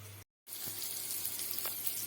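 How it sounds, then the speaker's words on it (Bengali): Bitter gourd frying in hot oil in a kitchen pan: a steady bright sizzle continues close by after a brief cut of silence, with faint soft stirring bumps underneath and no talk. "এবার উচ্ছেগুলো বেশ লাল লাল করে ভেজে নেব"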